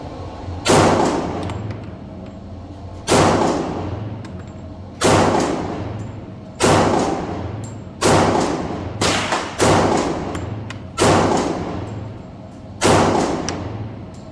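Girsan 1911 Negotiator .45 ACP pistol fired at an outdoor range: eight sharp, loud single shots spaced roughly one to two seconds apart, each with a ringing decay, and no talking.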